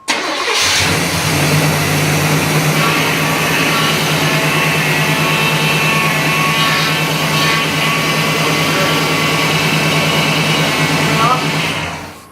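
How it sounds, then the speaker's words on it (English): A 1991 GMC Jimmy engine starts and then idles loudly and steadily up close, a continuous mid-pitched rumble that holds for several seconds before cutting off at the end. "Just let it idle so I can set this thing in close at least."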